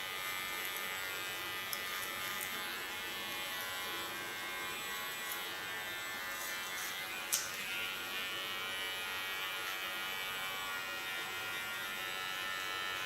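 Electric hair clipper buzzes steadily against the skin while trimming and softening a line around the ear during an asymmetric bob haircut with an undercut; a continuous close hum runs throughout with a couple of faint clicks.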